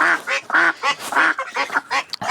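A duck being carried by hand toward a flock gives a loud, rapid run of repeated nasal quacks in close bursts, one after another, with no talk over them.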